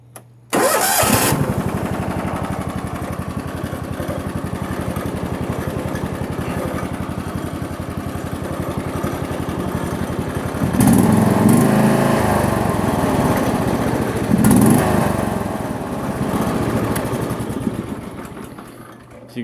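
A John Deere LX172 lawn tractor engine cranks and catches, then runs at a steady loud idle close by before revving up twice as the throttle is raised, dropping back and trailing off toward the end.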